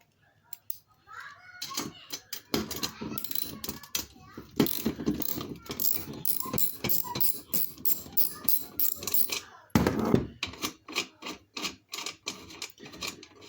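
Close mechanical clicking and ratcheting of metal parts, irregular and busy, like a tool working a screw loose from a squeaky bed base, with a few faint scrapes.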